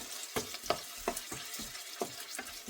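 Shallots and onions sizzle in hot fresh oil in a pan and are stirred now and then, giving soft rhythmic scrapes and crackles close by with no talk.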